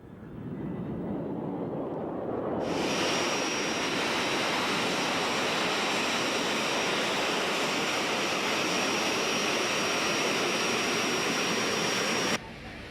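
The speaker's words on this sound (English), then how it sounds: "Now we've come to a busy airport where we're going to see some much larger jet airplanes" A loud, steady roar of large jet airliners fills the air at a busy airport near Los Angeles, California, joined by a high whine after a few seconds, continuous and close.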